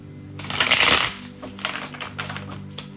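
A curved tarot deck being shuffled close up: a loud riffle burst followed by a run of softer, irregular card taps and slides over a low background hum.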